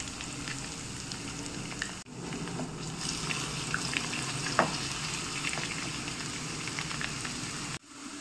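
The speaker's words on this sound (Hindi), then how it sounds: "1 टेबलस्पून ऑयल गरम करने को रखा है, 1 टीस्पून जीरा, क्रश्ड लहसुन" Cumin seeds, crushed garlic and ginger fry in a tablespoon of hot oil, giving a steady close sizzle and crackle that runs throughout, broken by two brief dips, with a faint clink of stirring partway.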